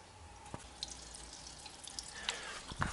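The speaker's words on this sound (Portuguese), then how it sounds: "Eu abri a valvulinha ali, ó. Coloquei uma garrafa porque a água tá vindo" Coolant water draining from an opened valve on a car engine into a bottle, a faint, close trickle with small scattered drips and splashes over a quiet background.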